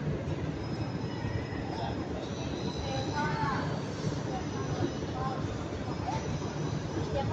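A Singapore MRT train rumbles through a station with steady rolling noise, high metallic squeals and faint tonal whines, while voices talk nearby.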